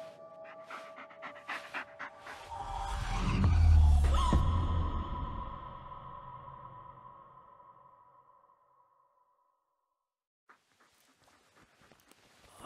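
Dog panting in the Blair Witch horror video game, rapid breathy puffs over game sound effects that swell to a loud low rumble and then fade into near silence, followed by a few faint ticks.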